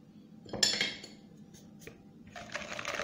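A spoon stirring water and cornstarch in a bowl: light metallic clinks and scrapes in a few short bursts, close and fairly quiet, with a longer scraping stir at the end.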